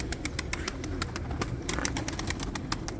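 Pigeons, kept birds offered for sale, coo softly near and far, a repeated low burbling beneath scattered sharp clicks and faint flutter, quiet overall with no voices.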